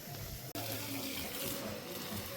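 Running water splashes steadily close by, with a brief cut near the start; a soft murmur of voices sits faintly beneath.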